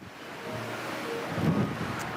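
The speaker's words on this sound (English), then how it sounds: "It's still windy. I don't know if you can hear it." Strong hurricane wind from Hurricane Milton in Tampa, Florida, in the early hours, a steady roaring rush with gusty swells and low rumbling buffeting, loud and continuous with no talking.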